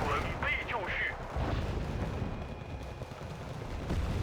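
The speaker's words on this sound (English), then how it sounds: "That's some heavy artillery." Heavy artillery fire in the Wargame: Red Dragon video game, a dense low rumble of distant blasts under ongoing battle noise, with a voice talking briefly near the start.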